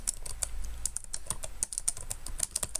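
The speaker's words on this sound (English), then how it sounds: "I'm just, you know, speed typing." Rapid typing on a computer keyboard, a dense run of sharp, close key clicks in a quick irregular rhythm, heard alone without talk.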